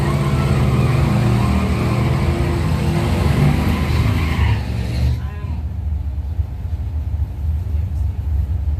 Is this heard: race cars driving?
yes